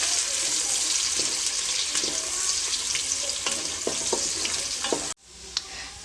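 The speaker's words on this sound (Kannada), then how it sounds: "ಮೀಡಿಯಮ್ ಸೈಜ್ ಎರಡು ಈರುಳ್ಳಿ ಈರುಳ್ಳಿದು ಹಸಿ ವಾಸನೆ ಹೋಗೋವರೆಗೂ ಒಂದು ಸ್ವಲ್ಪ ಫ್ರೈ ಮಾಡ್ಕೊಳ್ಳಿ" Two medium onions frying in a pan for a tomato bath breakfast, a steady close sizzle with scattered stirring clicks that cuts off abruptly near the end, leaving a quieter hiss and a single knock.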